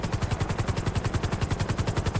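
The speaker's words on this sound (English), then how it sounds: "I love going in the helicopter." A helicopter in GTA V roleplay thumps with fast, evenly pulsing rotor beats over a broad engine whine, loud and steady throughout, with no talking.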